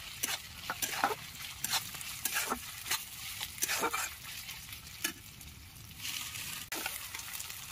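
Spice paste sizzles and fries on a clay wood-fired stove as cubed tomatoes go in, with repeated scraping and stirring strokes of a spatula and a constant low crackle underneath.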